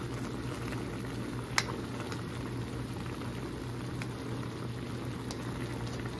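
Beef neck bone adobo sauce simmers in an uncovered pot, a steady close bubbling and popping with no talk over it.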